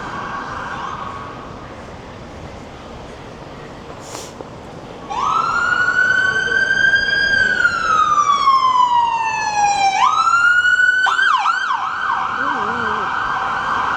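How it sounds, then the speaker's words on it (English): An emergency siren passes along a busy West End street near Covent Garden in London before Christmas. It bursts in loud and close after a few seconds of street hum, wails in long falling sweeps, then switches to quicker yelps. "We're going, coming ambulance, the police."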